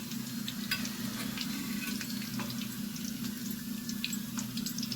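Namak pare made from chickpea flour fry in hot oil with a steady, soft, close sizzle and crackle that carries on throughout, with no talking.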